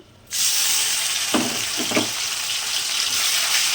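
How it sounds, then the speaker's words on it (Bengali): Onion paste drops into hot oil in a pan with a sudden loud sizzle that keeps hissing steadily, with a few scraping stirs partway through, and no talking. "তেল গরম হয়ে গিয়েছে, আমি এবার দিয়ে দেবো পেঁয়াজ বাটাটা দিয়ে দেবো।"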